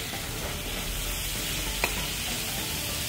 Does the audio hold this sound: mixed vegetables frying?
yes